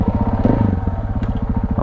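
A KTM dirt bike engine putters close by on a campsite trail with a fast, pulsing exhaust beat that steadies over the short stretch, with no talk.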